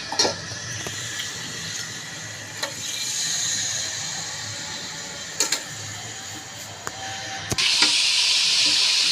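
Chicken frying in hot oil in a cooking pot gives a steady, close sizzling hiss that swells slightly and grows louder and brighter toward the end. There is no voice over it.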